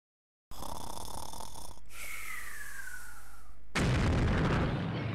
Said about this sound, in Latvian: Vai jūs dzirdējat sprādzienu?